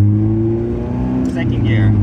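Engine of a manual five-speed car accelerating in first gear, a loud steady drone with rising tones, a voice speaking briefly over it near the end.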